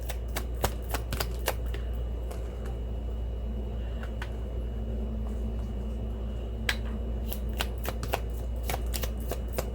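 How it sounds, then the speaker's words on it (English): Tarot cards are shuffled close by, a flurry of quick papery riffles and snaps in bursts, with brief pauses between rounds. "I always shuffle twice to make sure we get as many names as possible"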